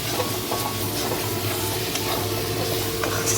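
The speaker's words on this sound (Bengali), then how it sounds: "টমেটো কুচি 2টো ছোট টমেটো কুচি একসঙ্গে দিয়ে কষিয়ে নিচ্ছি।" Chopped tomatoes with Kashmiri chilli powder and spices stir-fried in a pan for a chicken and eggplant dish, a steady dense sizzle with soft scraping movements, close and continuous with no talking.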